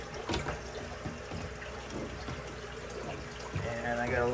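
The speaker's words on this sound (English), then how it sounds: "So now all I gotta do is just add some of this clean water back in there." Clean water pours from a service hose into a fish tank, a steady splashing trickle close by that grows a little louder near the end.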